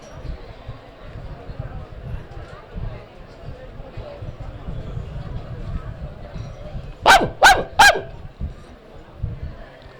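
Dogs bark at night in a burst of three sharp, loud barks toward the end, over a steady murmur of people talking nearby.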